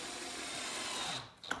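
A power drill driving a screw into the wood of a farmhouse corner storage bench during assembly, a steady whining motor hum that cuts off near the end with a small click, close and fairly quiet.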